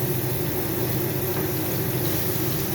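Tomato paste sautés in a pan with a steady, even sizzling hiss that holds at one level throughout, close and continuous without talking.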